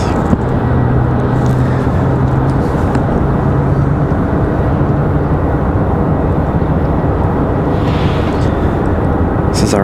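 A Southwest airliner from DC, at Raleigh Durham airport, gives off a loud, steady broadband roar that holds for the whole stretch. Speech-like sounds and faint hum sit beneath it.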